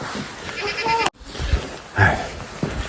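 Goats bleat on a snowy farm at feeding time, with a few short, close cries broken by a sudden cut and some low rustling.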